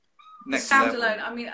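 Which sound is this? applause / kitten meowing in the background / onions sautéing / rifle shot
kitten meowing in the background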